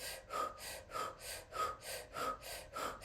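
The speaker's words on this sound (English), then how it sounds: "Breathing in." Forceful, rhythmic breaths during kundalini yoga breathwork, about seven close, even pulses of air in quick succession, loud and unaccompanied by talk.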